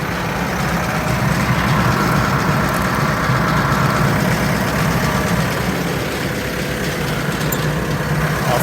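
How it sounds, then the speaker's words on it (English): A compost trommel screener and stacker's engine idles loudly and steadily as it warms up, a constant low diesel rumble heard close up without a break. "Let's get this stacker moving."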